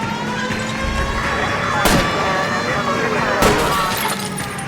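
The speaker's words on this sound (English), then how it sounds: "I'll try to shoot out his tires." Gunshots fired at a fleeing car's tires in the game LA Noire: two loud, sharp cracks a second and a half apart over a steady engine drone, with voices in the mix.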